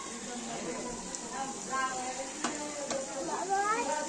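Garlic tossed into hot oil in a pan over a wood-fired clay stove while cooking mutton, giving a steady close sizzle with scraping stir sounds and faint clicks, with a voice speaking over it.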